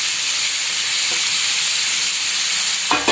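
Chopped cabbage and capsicum stir-fry in a hot pan for chicken fried rice. A loud, steady sizzle and hiss runs close and constant, with a sharper stirring clatter just before the end.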